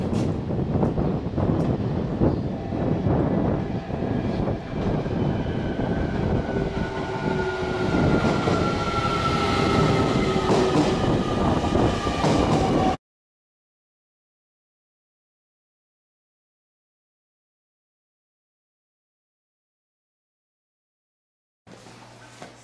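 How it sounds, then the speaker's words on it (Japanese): A local passenger train bound for Tosu, Japan, runs along steadily with a continuous rumble and rail clatter, heard close from on board, then cuts to silence after about thirteen seconds. "今回乗車する、普通列車や鳥栖行きと、後ろより2両が、長洲行きです。"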